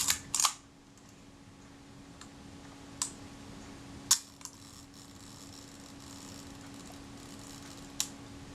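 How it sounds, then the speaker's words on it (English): A Kodak Retina IIIc film camera's leaf shutter firing at a slow one-second setting: a sharp double click at the start, then sporadic faint ticks and clicks over a quiet hum as the sluggish shutter works. "That was the shutter firing, and as you heard, that shutter was quite slow."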